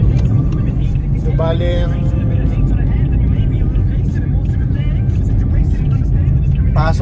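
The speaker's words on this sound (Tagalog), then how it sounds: "So ito ngayon, nagda-drive ako, papasok sa trabaho." Car driving on a road on the way to work, a constant loud engine and tyre rumble filling the whole stretch while someone talks over it.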